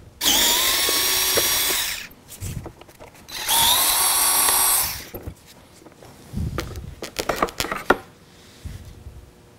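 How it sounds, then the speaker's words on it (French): A power screwdriver with a Torx 20 bit backs out screws from a front fog light grille, two loud whirring bursts of about two seconds each, followed by sharp clicks and taps as parts are handled. "Vous allez avoir besoin avec vous d'un tournevis avec une Torx 20."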